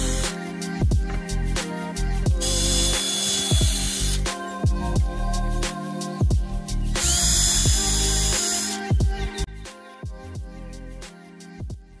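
A power drill whirs in repeated bursts, spinning up and biting into a wooden dresser with loud high-pitched runs between brief pauses.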